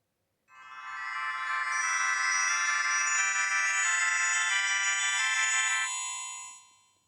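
Ringtone from a MediaTek dual-SIM phone, a bright multi-tone electronic melody playing alone for about six seconds at steady moderate volume before fading out.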